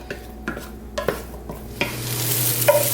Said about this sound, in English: we're going to start cooking the sausage